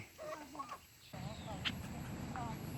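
Chickens cluck in short, uneven bursts close by, a few birdlike calls scattered over a soft background hiss with no clear talk.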